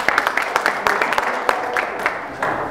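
A short burst of applause from a small group at a workshop, light scattered claps that thin out toward the end.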